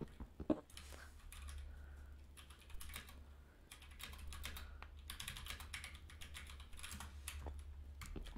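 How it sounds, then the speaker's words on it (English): A mechanical computer keyboard is typed on steadily during a Minecraft game stream, giving a dense run of quiet clicking keystrokes over a low background hum. "My bad, guys, you can hear my keyboard."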